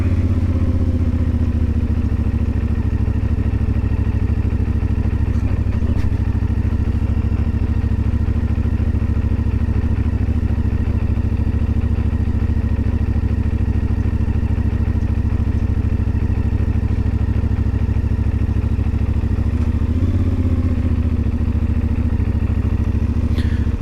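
A CFMoto Ibex 450 motorcycle engine runs steadily and loudly nearby with a rough, uneven idle, sputtering and missing throughout, with no talking.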